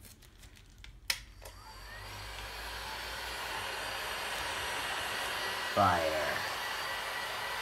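A heat gun blows hot air across a leftover-paint pour in a tray, a steady loud whoosh that runs through most of the clip after a sharp click, with a brief thump near the end and a faint voice.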